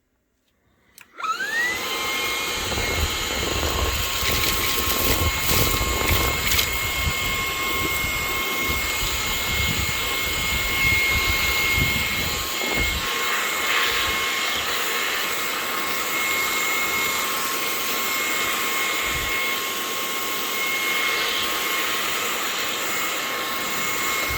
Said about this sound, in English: So now we just got to find a real vacuum to clean this up.